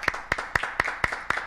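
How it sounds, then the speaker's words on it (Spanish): Sparse, evenly spaced claps for a doctor guest on a television program, about six sharp hand claps in a steady rhythm, fairly close and moderately loud with no other sound around them. "Un aplauso."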